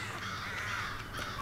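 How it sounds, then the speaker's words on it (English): Crows caw in the Tearaway Unfolded video game, a harsh, raspy cawing that runs continuously at moderate volume through a gloomy sanctuary area, with no speech over it. "The crows are creepy."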